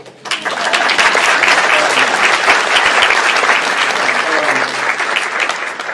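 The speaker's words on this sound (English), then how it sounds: "a round of applause for the mayor, please" A lecture audience bursts into loud, sustained applause for the mayor, a dense roar of many hands clapping that starts abruptly and holds for several seconds.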